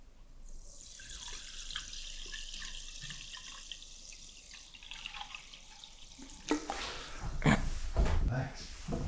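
Sparkling water pours and fizzes into a glass close to the microphone, a soft steady trickle that ends in a few louder splashes and clinks, with quiet talking nearby.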